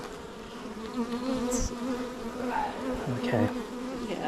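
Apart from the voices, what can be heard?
honey bees buzzing during beehive inspection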